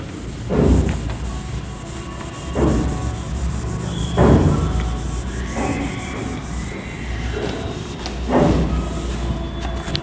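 Writing is wiped off a board with repeated rubbing strokes, each swipe a scraping rush about every two seconds, close and fairly loud, with no talking.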